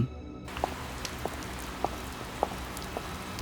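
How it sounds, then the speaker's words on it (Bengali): Steady rain falls throughout, with scattered louder drops tapping a surface now and then over a constant wash of noise. "বৃষ্টি থেকে বাঁচতে দৌড়ে আলোর দিকে আসতে লাগলো"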